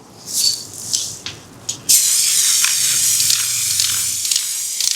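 Varnish is sprayed onto a wooden piece near an open window: a few short hissing puffs, then one long, steady, close spray hiss.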